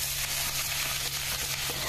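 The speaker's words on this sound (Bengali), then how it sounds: "এর মধ্যে দিয়ে দেবো পেঁয়াজ কুচি" Chopped onion frying in hot mustard oil for a bitter gourd and onion fry: a bright, even sizzle with a low steady hum beneath, close and constant over a brief moment.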